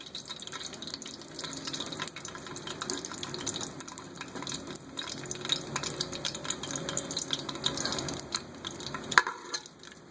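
Cumin seeds fry in about a quarter cup of hot oil with a dense, steady crackling sizzle, close and even for several seconds before a sharp clink near the end.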